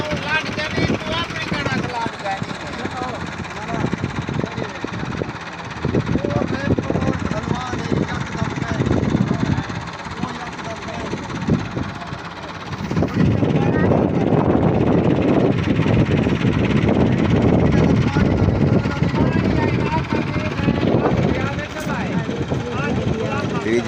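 A tractor engine runs steadily while working to pull free of deep mud, a loud continuous rumble that swells and strains in the second half, with people talking over it throughout.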